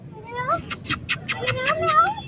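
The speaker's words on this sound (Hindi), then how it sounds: "वो देखो म्याऊं कर रही है" A cat meows twice with rising, drawn-out cries on a street during an evening Ramadan iftar outing. People talk and there is faint street noise underneath.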